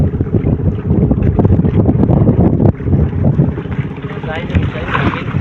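Strong sea wind by the shore buffets the microphone in a rough, continuous roar, with people talking under the gusts.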